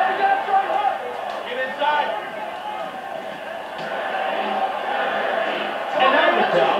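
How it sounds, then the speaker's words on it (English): A fight crowd at an amateur combat event chants and cheers for a fighter named Ironhead, a dense, mid-distance roar that swells in waves under an excited commentator's voice. "the crowd clearly in favor of Ironhead"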